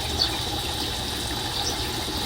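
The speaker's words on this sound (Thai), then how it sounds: "อยู่หน้าบ้านสวนหน้าบ้านนะมันมีน้ำตก" Small waterfall in a front garden, a steady soft splash and trickle of falling water, even and moderately quiet with no talk.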